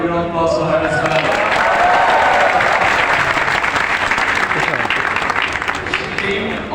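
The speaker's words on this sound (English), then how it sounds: "Can you have a big round of applause for her as well?" Audience applause at a tech expo, loud and sustained for several seconds, with a few voices and cheers mixed into the clapping crowd.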